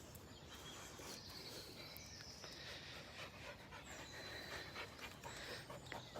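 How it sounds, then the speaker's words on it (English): A dog pants in quick, rhythmic breaths during a walk in Marbury Park, Northwich, faint and steady against a quiet outdoor background with occasional light footsteps. "Clearly there's a doggy coming"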